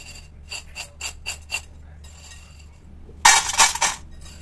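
Chili powder, coriander powder and salt are mixed in a frying pan for mango pickle, a series of quick metal spoon scrapes and taps, then a louder burst of scraping near the end, with no talk.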